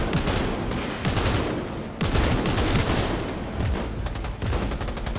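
Rapid gunfire in the video game Cyberpunk 2077, dense loud bursts of automatic shots with sharp repeated cracks and brief gaps, close and continuous, no voices heard.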